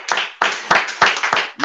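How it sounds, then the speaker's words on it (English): Hands clapping in a few loud, close claps spaced irregularly, sharp and distinct with nothing else around them. "Clap for me first now."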